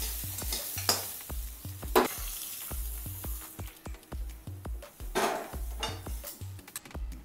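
Moth beans roasting with butter in a pan: steady sizzle under repeated scraping and stirring strokes from a utensil, with sharp metallic clinks against the pan, close and moderately quiet, no talk.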